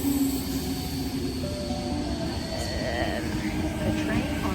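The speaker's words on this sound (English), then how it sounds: "Here comes my train back to Sutherland" A Sydney suburban train rolls into Penshurst station, heading back to Sutherland, with a steady mechanical rumble and faint rising motor tones throughout.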